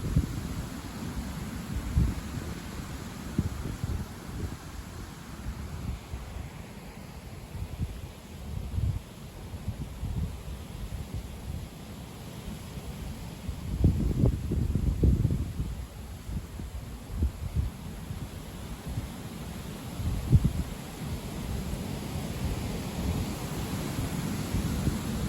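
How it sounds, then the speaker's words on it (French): Strong southwest wind picking up suddenly outdoors under a showery post-frontal sky, a continuous low roar with microphone buffeting and a few louder gusts swelling in the middle and again near the end, no voices. "il y a beaucoup de vent là, d'un coup là"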